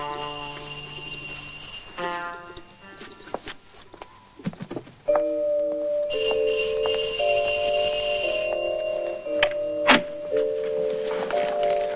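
A doorbell in a 1977 film chimes in a series of ringing bell tones, with one sequence starting near the beginning and a second, louder run following a few seconds later amid faint room sounds.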